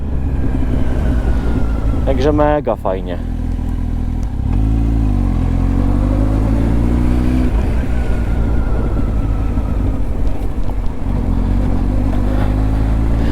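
A Kawasaki Z1000 motorcycle engine runs loudly throughout, with a rising rev partway through, while someone talks over the engine noise.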